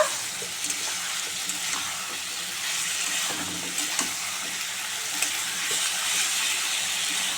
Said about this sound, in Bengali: পটলটা দিয়ে দিয়েছি, আলুও দিয়ে দিয়েছি, এবার ভালো করে কষে নেব।